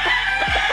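A six-month-old stag chicken clucks several times in quick succession, close by and fairly loud.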